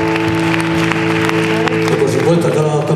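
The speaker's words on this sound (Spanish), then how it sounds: "un aplauso muy grande para ellos y para los ayuntamientos" An audience at a youth concert honoring Machado applauds amid lingering sustained musical tones and crowd noise, the clapping steady and loud throughout.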